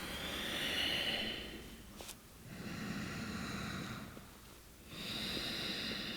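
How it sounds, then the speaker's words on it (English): Slow, close breathing during a yoga forward fold for hips and hamstrings: three long, soft airy breaths separated by short pauses, with no talking. "Exhale, folding forwards."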